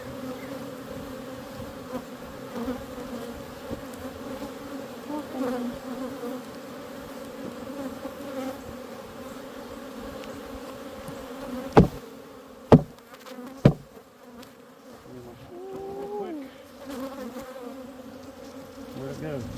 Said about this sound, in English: Yeah, see all the bees now? They are all over me.